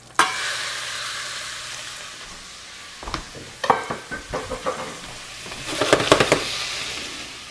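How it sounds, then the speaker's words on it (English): Beef cubes drop into hot olive oil and butter for beef bourguignon, a steady close sizzle broken by a sudden hiss and a run of crackling pops and spatters as the meat hits the pan. "Let's go ahead and add our beef."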